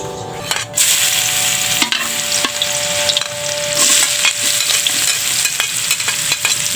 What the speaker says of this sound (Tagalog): Igisa ako ng pansit canton bihon.